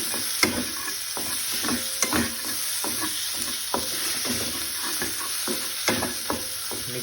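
Chicken pieces fry and roast in a pan for a high-protein curry, a steady close sizzle punctuated by repeated scraping and knocking of a spoon as it is stirred.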